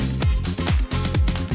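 White noise risers, blasts and a reversed crash, heavily sidechained for a dance-track drop, pump and duck in a loud rhythmic surge against deep thumping hits, with no voices.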